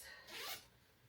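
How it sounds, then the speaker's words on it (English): A zipper on a baby carrier is pulled closed in one brief, quiet rasping stroke lasting about a second. "you can zip it up like this"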